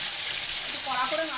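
Pona fish sizzles in hot oil in a pan, giving a steady, bright frying hiss, with a voice briefly heard near the end.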